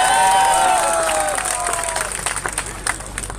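A crowd at a political election rally in Haryana's Mewat region applauds and cheers, a dense, steady wash of clapping and voices that starts loud and slowly thins into scattered claps.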